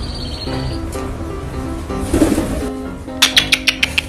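Pigeons coo in soft, low repeated calls, followed by a quick run of sharp, rhythmic clicks or taps near the close, with no voices.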